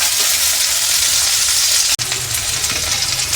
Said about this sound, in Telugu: ఇదే దాంట్లో కొంచెం మనము మిర్చీలు వేగించుకోవాలండి